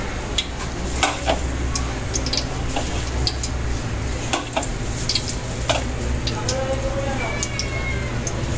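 Onion goes into a hot pan of cooking oil and sizzles steadily, with light clicks and clatters of utensils scattered throughout and a person talking over it.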